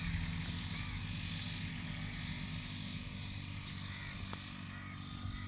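Crop sprayer at work over a 50-day onion field during its fourth spray, giving a steady, loud engine drone with a propeller-like whir that holds constant throughout, with no voices.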